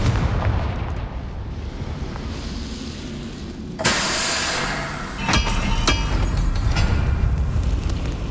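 A Confringo fire spell explodes in the Hogwarts Legacy video game, with a sudden loud blast followed by crackling bursts and sharp impacts over a rumbling battle background.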